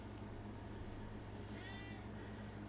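A cat gives a single soft, drawn-out meow partway through, faint against a steady low hum that fills the whole stretch.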